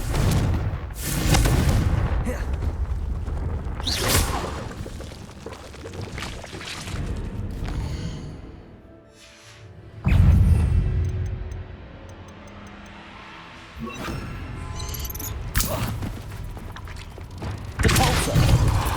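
Confringo fire spells blasting in Hogwarts Legacy, a run of loud, booming impacts with thuds and crackling bursts, spaced a few seconds apart, one dropping into a brief lull before a heavy hit.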